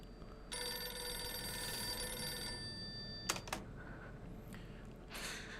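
In the video game Silent Hill, a telephone gives a single bright, electronic ring lasting about two seconds. A couple of sharp clicks follow over a low, quiet background hum.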